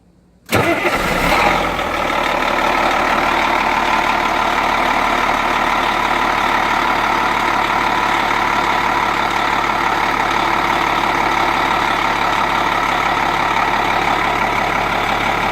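An engine is started from the rear with a short crank, fires at once, and runs at a loud, steady idle close by, with a dense even drone that continues without a break.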